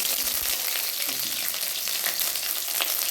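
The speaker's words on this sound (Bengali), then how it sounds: "এবার আমি এলাচ, লবঙ্গ, দারুচিনি খুব সুন্দর করে থেতো করে রেখেছি, আমি তেলের উপরে দিয়ে দিই।" Crushed cardamom, cloves and cinnamon dropped into hot oil sizzle steadily with a dense, crackling hiss, close and continuous, with no talk over it.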